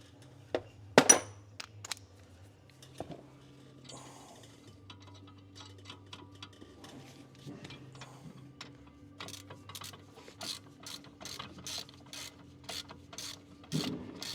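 Nuts are tightened onto a ball joint on a Scirocco suspension arm, with sparse metallic clicks, then a faster run of ratcheting ticks, close and fairly quiet against a low hum.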